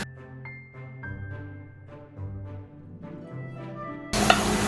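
Cabbage curry cooking in a pan, with a soft sizzle and a few stirring scrapes under a steady background tone, then a sudden louder hiss near the end.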